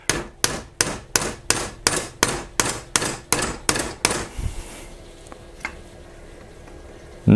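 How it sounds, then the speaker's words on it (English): A metal hammer beats a wooden batten set against the guard of a Dynasty Forge bastard sword: about ten sharp, evenly spaced ringing strikes, loud and close, followed by a quieter stretch with a few faint knocks. "I'm going to use a metal hammer, and I'm going to put just a little batten of"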